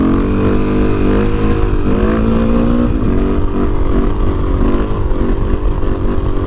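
A Suzuki DRZ400E supermoto with 13-47 chain gearing pulls in fifth gear, its single-cylinder engine a loud, close, steady drone whose pitch wavers and dips slightly as it holds speed.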